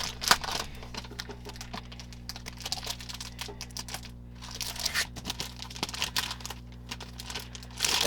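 Crinkling and rustling of 12 by 12 Christmas cardstock paper from 2014 being handled up close, with irregular crisp crackles and sharp bursts, no talking.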